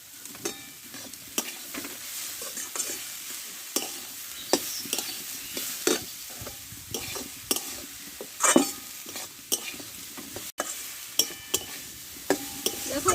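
Ash gourd cooking with spices, salt and a little sugar is stir-fried in a pan: a soft sizzle runs under frequent, irregular scraping and clinking of the spatula against the pan, up close.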